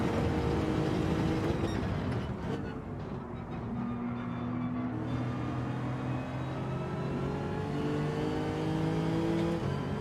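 A Lexus racing in Gran Turismo 7, its engine revving steadily and close, easing off briefly before climbing through the gears again in a continuous, moderately loud drone.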